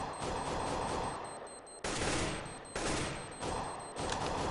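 Gunfire in a 2013 Counter-Strike match, rapid sustained bursts of shots coming in several loud blocks separated by brief gaps, with no voices.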